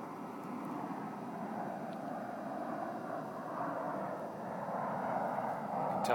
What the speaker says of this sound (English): Tell by the colors that is a Southwest jet.